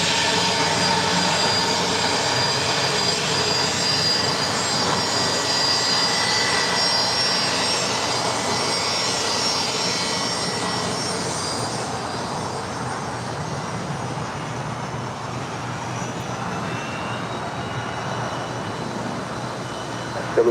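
A Gulfstream jet landing at LAX roars loudly and steadily, with broad engine noise that eases off gradually as the aircraft passes.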